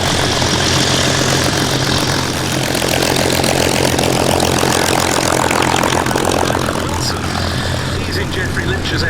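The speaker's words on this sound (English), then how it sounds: "As Peter Kuipers brings his Beech D-17S into land." A Beech D-17S Staggerwing biplane comes in to land at a Battle of Britain airshow at Duxford, its radial propeller engine droning steadily and loudly throughout amid crowd ambience.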